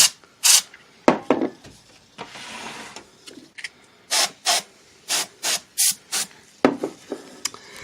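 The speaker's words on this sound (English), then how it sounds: "You can kind of hear it, the can making noises." A compressed air duster can sprays in a series of short, sharp hissing puffs, close by, with a longer steady hiss partway through, while dusting behind a computer fan.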